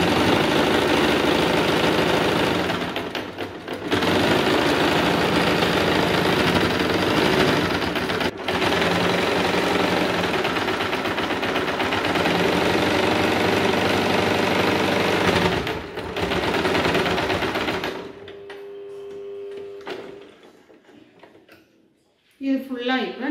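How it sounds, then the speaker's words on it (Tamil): A sewing machine stitches a reusable cloth napkin in a loud, continuous mechanical whir with brief pauses. It stops near the end, where a quiet voice and soft handling sounds follow. "ஒரு தையல் நம்ம உள்ளார தைச்சா போதும்"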